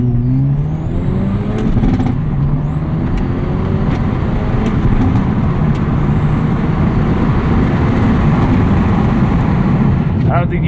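A 2020 Hyundai Veloster N accelerates hard with the windows cracked, its engine and exhaust producing a loud, steady rising drone from inside the cabin, with engine pitch climbing between gear changes.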